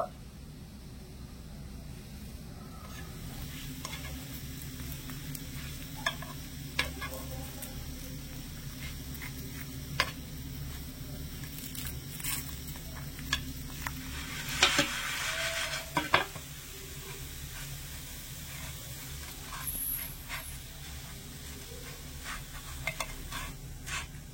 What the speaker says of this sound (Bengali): এবারে পাউরুটির টুকরোগুলো এভাবে নেড়ে ছেড়ে একটু শ্যালো ফ্রাই করে নেব।